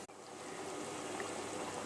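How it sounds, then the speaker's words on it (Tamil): Eggplant tamarind curry simmering in a pot, oil starting to separate as it boils, giving a steady close bubbling and hissing texture throughout, with no talk. "குழம்பு நல்லா கொதிச்சு எண்ணெய் பிரிஞ்சு வர ஆரம்பிச்சிருச்சு"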